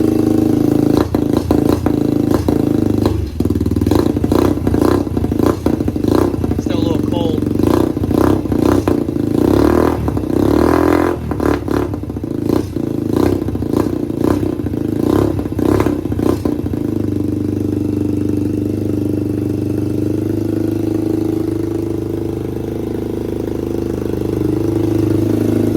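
A Can-Am DS90 X ATV engine runs close up, revving repeatedly in a rapid series of sharp blips with clattering, then settling back to a steady idle.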